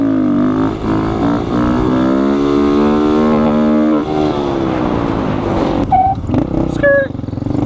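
A Honda Grom motorcycle engine revs hard through a wheelie, a loud, close, continuous roar whose pitch climbs, then dips and rises again, breaking into short bursts near the end.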